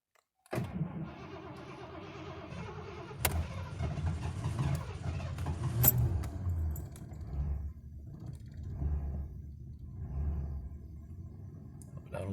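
A 1989 Mercury Grand Marquis with 130,000 miles cranks and starts, then settles into a low, steady rumbling idle with small fluctuations, heard close by with a few faint clicks.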